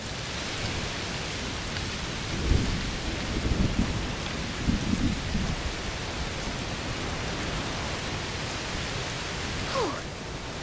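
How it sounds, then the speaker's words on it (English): Steady heavy rain pours through a thunderstorm in the video game A Plague Tale: Requiem, with a few low thunder rumbles rolling in early on, a constant dense wash of noise with no talk. "Must be a heat storm."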